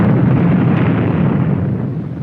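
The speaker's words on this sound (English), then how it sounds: "Do you want Castro to have the bomb now?" A bomb explosion in a political ad, a loud, sustained rumbling roar that fills the whole clip, dense and low-heavy, fading only slightly toward the end, with no voices over it.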